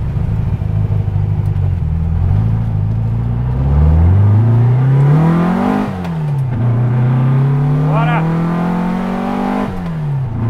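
A street-driven Volkswagen Fusca with a tuned 2300 naturally aspirated engine revs and accelerates loudly through rising gear pulls with shift breaks, its engine note climbing close by while people talk inside the car.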